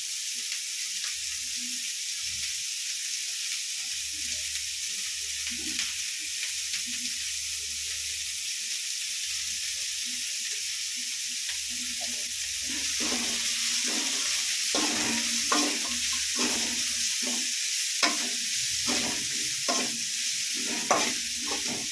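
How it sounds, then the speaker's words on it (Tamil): Garlic and onions sautéing in a pan, first as a faint low sizzle, then in the second half a louder run of frequent spoon scrapes and stirring strokes over the frying, heard up close. "பூண்டு போட்டு கொஞ்சம் வதங்கட்டுன்னு வெங்காயம் போட்டப்பா"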